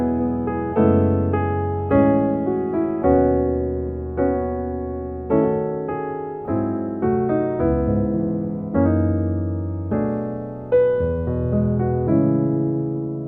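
Piano plays a flowing gospel 7-3-6-2-5-1 progression of rich, rolling chords, each struck firmly and left to decay, moving steadily through changes with no voices.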